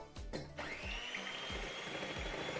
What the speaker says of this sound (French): je reprends mon saladier où dedans j'ai mis les blancs d'œufs et je vais les monter en neige